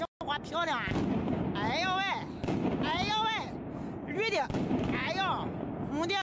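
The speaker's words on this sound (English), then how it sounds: "Rows of fireworks are rapidly ignited, resembling the outbreak of a war with its spectacular and awe-inspiring scenes." Rows of Chinese New Year fireworks go off in a dense, continuous barrage of loud, close bangs, with rising whistles from rockets cutting through the roar.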